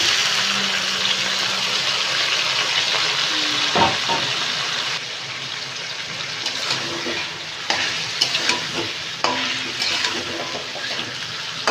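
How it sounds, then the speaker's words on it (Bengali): Marinated chicken drops into hot oil with cloves, cardamom and a bay leaf for biryani, giving a loud, steady close sizzle and frying hiss, broken by a few clinks and stirring scrapes. "লবঙ্গ আর এলাচ দিয়ে দিলাম আর এবার এই ম্যারিনেট করার চিকেনটা এবার দিয়ে দেবো আমি"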